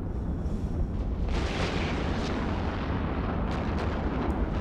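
Heavy missile impacts and weapons fire striking ship shields in a large fleet battle in the space game EVE Online, a loud continuous rumbling barrage with bursts of brighter crackling hits throughout.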